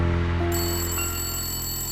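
A telephone rings on a film set, a steady electronic ring tone sustained for the full two seconds at moderate level over a low background hum, with no talk.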